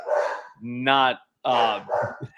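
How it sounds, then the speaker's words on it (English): A dog barks close by, a few loud harmonic barks and yips in quick succession, with a person's voice heard around them. "Oh, here's the dog. Dog agrees."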